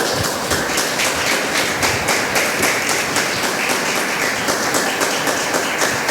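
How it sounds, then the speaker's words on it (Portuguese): A church congregation claps in a fast, steady rhythm, loud and close, with a dense crowd wash and no speech over it. "Aplauda Jesus com muita alegria aí."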